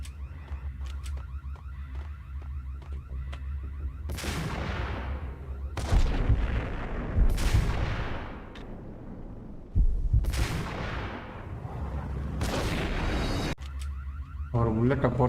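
Sniper rifle shots in Max Payne boom heavily, several of them spaced seconds apart, each with a long decaying echo over a low droning background.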